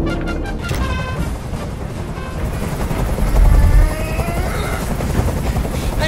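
A loud, continuous helicopter rotor chop drones overhead throughout in Detroit: Become Human, with a brief deeper swell in the middle.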